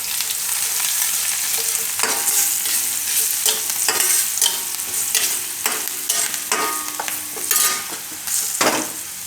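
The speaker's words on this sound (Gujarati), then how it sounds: "થોડીક આપણે હિંગ નાખીશું અને મિક્સ કરી લઈશું." Turmeric and asafoetida are stirred into hot oil for a Gujarati cucumber dish, with steady close sizzling and a series of scraping strokes from the spoon against the pan.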